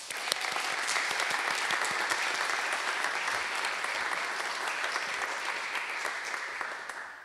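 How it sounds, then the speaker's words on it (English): Applause from the audience at a Class of 2021 graduation ceremony, a broad, even wash of many hands clapping that holds steady for several seconds without talk. "I just wanted to give them a round of applause for that."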